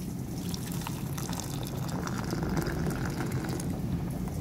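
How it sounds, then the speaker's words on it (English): Wort at a rolling boil, boiling over in a brewing kettle: steady dense bubbling and churning liquid, close and continuous throughout with no talk. "We have a rolling boil to the extent whereby it's boiling over."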